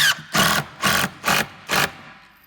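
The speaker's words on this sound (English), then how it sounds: "being careful not to wind the screws in too much" Screws driven into a skate ledge ramp panel with a power driver, five short even whirring bursts in steady rhythm, close and fairly loud.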